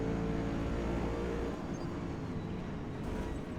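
A C8 Corvette and rival race cars, including a Bugatti, roar around Le Mans in Forza Motorsport, a dense, loud, sustained engine drone with a deep low rumble that eases slightly midway.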